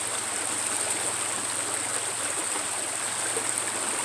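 Water pours steadily through a gold sluice box clogged with clay, making a continuous, even rushing hiss like a small stream, fairly soft and unbroken throughout.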